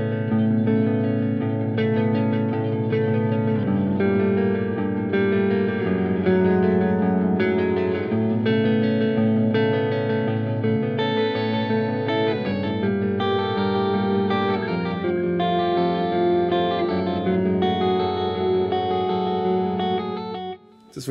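Electric guitar notes sent through a Line 6 DL4 MkII delay pedal, producing a dense wash of repeating echoes and reverb that sustains steadily for about twenty seconds before cutting off, with no talking.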